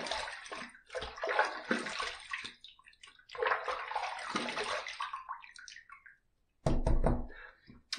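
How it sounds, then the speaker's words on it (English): Running water from a tap splashes in bursts during a shave with a Gillette Platinum blade in a razor, rinsed under the stream with short pauses and a knock near the end. "Let's rinse."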